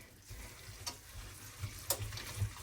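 Shredded potatoes for a cheesy hashbrown casserole are stirred in a pan, giving soft scraping and light clinks with a faint sizzle, quiet and close.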